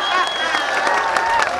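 Steady audience applause at a Hindi poetry recital, with dense clapping and some crowd noise filling the whole stretch, fairly loud and close.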